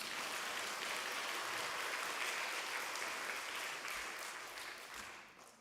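Church congregation applauding during a Wednesday worship service, a steady roar of many hands clapping that tapers off toward the close.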